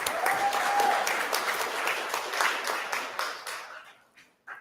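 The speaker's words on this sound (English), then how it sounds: "Another round of applause for Otibe Abasi." Audience applause at the 2024 Undergraduate Research Awards recognition event, honouring Otibe Abasi; a crowd claps steadily for a few seconds, then the clapping thins and fades out, with one last brief burst at the end.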